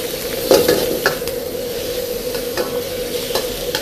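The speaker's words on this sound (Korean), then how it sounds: "삼겹살부터 넣어줘요." Pork belly sizzles in a wok over a Chinese-style range, a loud continuous frying hiss broken by scattered scrapes and clinks of stirring.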